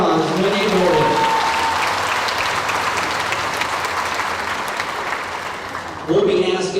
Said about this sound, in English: Give her a round of applause, Winnie Bowden.